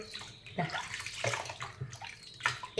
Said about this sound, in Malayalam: വിനാഗിരി ഒഴിച്ചു കൊടുക്കട്ടെ